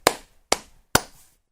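Three sharp, separate hand claps spaced about half a second apart, each ringing briefly before fading, heard alone without voices.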